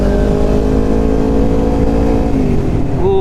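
A motorcycle fitted with a DX Generation Blue Moon full-system exhaust holds a loud, steady high-rev drone close by, the pitch dipping and rising again near the end.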